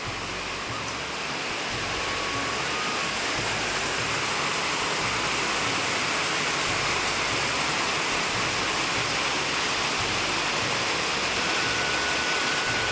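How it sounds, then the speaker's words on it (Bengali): Heavy rain pours down continuously in a village, making a dense, even roar of rushing water that holds steady throughout with no pauses or voices. "মানে সমানে বৃষ্টি হচ্ছে একভাবে"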